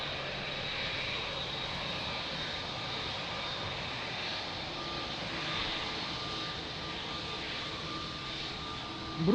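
A Brussels Airlines jet at Lisbon Airport produces a steady distant engine roar with a whining tone, holding level for several seconds, then a brief louder burst right at the end.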